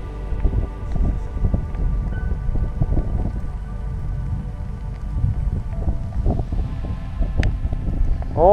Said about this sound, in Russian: Как интересно наблюдать за морской грозой